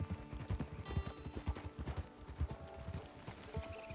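Horse hooves clip-clop at a steady pace in the video game Red Dead Online, with soft rhythmic beats throughout and faint ambient game sound underneath.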